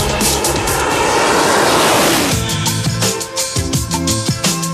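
A Brabus SV12-tuned Mercedes SL with a 6.3-litre, 640-horsepower engine accelerating hard on the Nardo circuit, a loud roaring rush that swells, then settles into a throbbing, pulsing drone close by.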